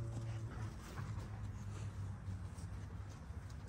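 A dog whimpers in soft, drawn-out tonal whines that recur over a low, noisy background, faint and without talk.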